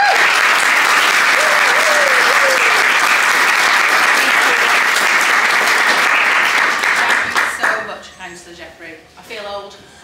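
A loud audience claps warmly for someone at an evening event in the Hepworth Art Gallery, sustained applause that fades out near the end as a voice begins speaking.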